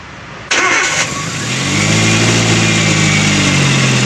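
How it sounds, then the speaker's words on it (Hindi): A Chevrolet Spark engine turns over and catches after head gasket replacement work, then settles into a loud, steady idle that carries on alone to the end. "गाड़ी स्टार्ट है"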